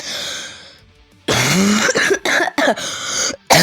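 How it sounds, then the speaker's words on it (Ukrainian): A burst of harsh, repeated coughing, several loud coughs in quick succession with brief gaps, close up, after a quieter stretch with a faint voice. "за оцей весь кашель"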